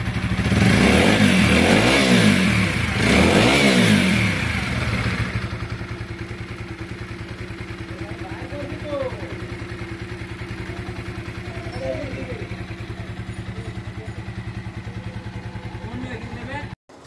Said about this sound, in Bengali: তো দেখুন বাইকটির সাউন্ড একদম অরিজিনালের মতো হয়ে গেছে, কোনো প্রকার কোনো বাজে কোনো নয়েজ নাই